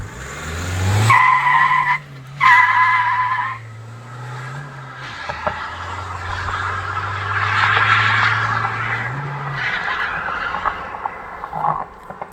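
Loud tire squeal from a car skidding through a handbrake drift, with the engine revving and dropping in pitch as the slide stretches out, then easing off.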